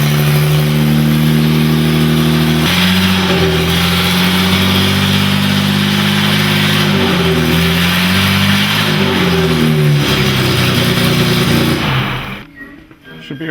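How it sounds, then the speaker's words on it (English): A 1939 Grand Prix race car engine runs loud and close, its deep harmonic roar revving up and down through several swells before cutting off near the end, with no talk over it. "As soon as I heard the motor start up, I knew we were dealing with a serious race car."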